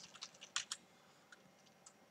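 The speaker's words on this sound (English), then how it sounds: "When you type in your character's class." Keys clicked on a computer keyboard while entering a character's class in Roll20 character creation: a quick cluster of crisp taps, then a few sparse, lighter keystrokes trailing off, with no voices.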